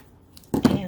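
Scissors cutting through ribbon while wrapping an Easter treat bag, a single quick close snip after a moment of near silence.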